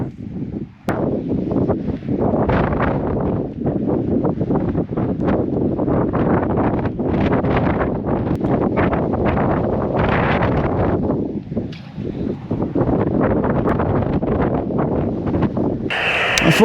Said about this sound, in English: If you stand up, the wind's nearly blowing you down.